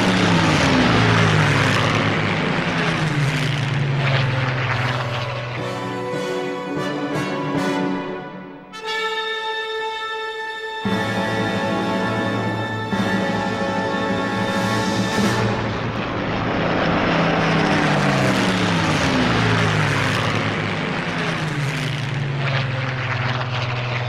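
A Spitfire aircraft engine roaring in flight, loud and sustained, with a steady propeller drone that swells as the plane passes, dips briefly, then returns as a strong steady roar.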